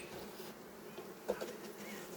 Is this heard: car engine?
no